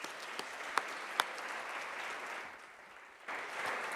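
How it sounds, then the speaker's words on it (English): Luncheon guests at the Beacon of Hope benefit give a round of applause, a broad wash of clapping with a few sharp individual claps early, dipping briefly before swelling again near the end. "I'm going to ask just a round of applause for all of you"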